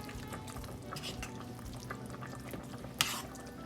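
Casserole ingredients are stirred together in a dish, a quiet, steady wet churning with faint drips and one brief sharper clink near the end.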